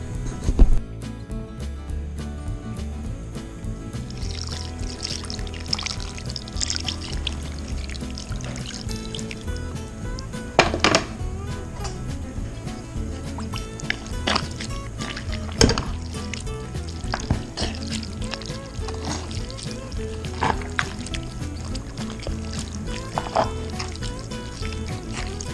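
Meat juices for pulled beef pour back into a pan, a steady sizzle and bubbling with occasional stirring clinks and splashes, close and continuous for the whole stretch.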